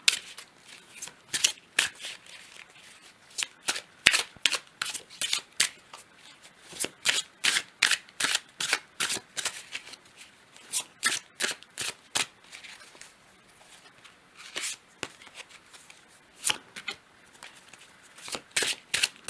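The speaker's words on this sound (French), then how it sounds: "Je vais tirer 3 cartes avec le tarot" A deck of tarot cards being shuffled up close, quick riffling bursts in irregular clusters with short pauses between, crisp and alone without talk.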